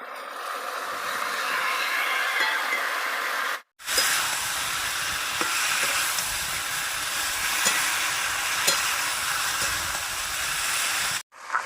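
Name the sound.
fried cauliflower and potato stirred into sizzling spice masala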